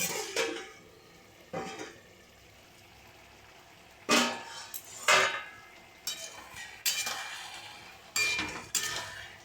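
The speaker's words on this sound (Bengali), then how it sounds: "কুড়ি মিনিট হয়ে গেছে এবার আমি ঢাকাটা খুলে দেবো" Lid lifted off a cooking pot of radish and pumpkin curry after twenty minutes of simmering, with several sharp metallic clanks and scrapes spread through a quiet kitchen, close by and with no speech.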